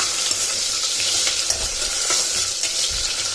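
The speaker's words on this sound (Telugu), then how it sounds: "ఇప్పుడు ఉల్లిపాయ ముక్కలని పచ్చివాసన పోయి బాగా కలర్ మారే వరకు మనం కలుపుకొని పెట్టుకోవాలి." Sliced onions fry in oil in a pan as they are stirred, a steady close sizzle with soft scraping strokes and light utensil taps recurring at an irregular rhythm, no talk over it.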